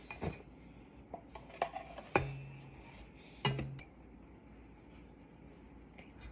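Spoon or utensil clinks and scrapes against a mixing bowl while cake batter is stirred, a few sharp knocks and soft scraping sounds at close range, with quiet talk in the background.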